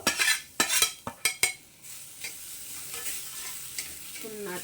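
Grated coconut stirred and fried in a wok for a sweet pitha filling, with a few sharp scraping strokes of a spatula at the start, then a steady soft sizzle close by with no talk.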